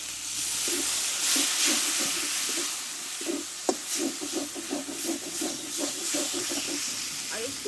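Spice paste with chilli powder and a little sugar sizzles steadily in a pan after a splash of water goes in, a close, continuous hiss with soft scraping strokes of a spoon running through it.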